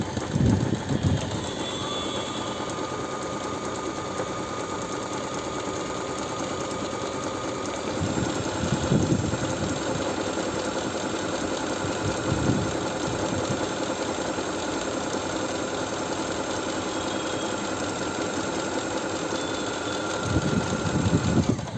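A Singer Start 1304 sewing machine runs a small zigzag stitch on cloth, its motor whirring steadily close by with a fast rhythmic needle chatter, pausing and restarting a few times, with no talk.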